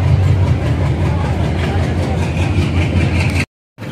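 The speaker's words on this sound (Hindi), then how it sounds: "ट्रेन तो आ चुकी है, अभी बैठते हैं, सामने भी एक ट्रेन आई है" A train idles at an Indian railway station, its heavy engine giving a steady, loud low rumble throughout before cutting out abruptly near the end, with no talk over it.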